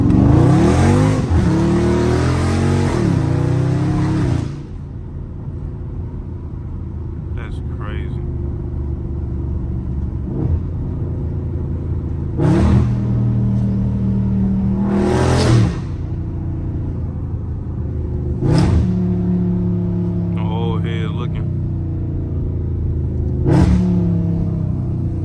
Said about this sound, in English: That's how loud my car is, bro.